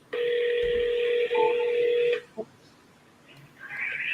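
An outgoing telephone call, a loud steady ringback tone held for about two seconds, then a short click and a quiet pause before a higher electronic tone rises near the end.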